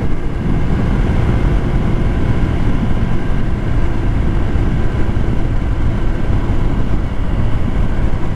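An icebear Hawkeye 150cc scooter running at a steady cruise near 55 mph, giving a continuous low engine drone mixed with heavy wind rush, unbroken for the whole stretch with no talking.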